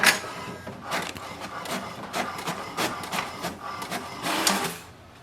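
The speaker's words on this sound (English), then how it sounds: "To print the password, press the information button once." An HP DeskJet 2931 printer prints its information page, giving a steady run of mechanical whirring and rhythmic carriage passes with repeated bursts, close and alone, ending in a brief stop.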